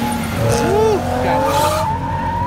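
A car drifting at a rowdy drift event lets out loud, wavering tire squeals over a revving engine at close range, with voices talking over it.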